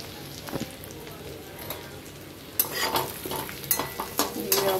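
Chopped ginger, garlic and green chilli sauté in a pan for an egg fry, a low sizzle that turns busier with sharp scraping stirs and clatters in the second half.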